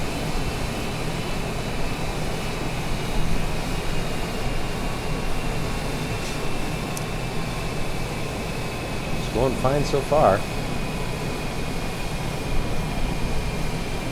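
Steady engine drone and wind roar inside the cabin of a small airplane in flight north of Long Island on a trip from Montauk to Danbury, Connecticut, constant throughout while someone speaks briefly.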